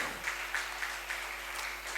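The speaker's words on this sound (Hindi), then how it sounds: "तालियां दोस्तों" Faint, distant audience applause at an award ceremony, a thin steady patter of clapping heard low against a hum in the hall.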